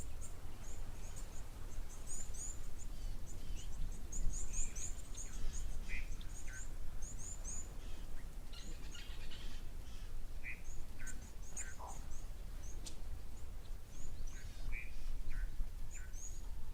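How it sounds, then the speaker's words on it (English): Assorted birds call at a waterhole, ducks among them, with scattered chirps and quacks over a steady outdoor background hum, moderately distant and without speech. "It's a nice little bird activity here at Tau as well."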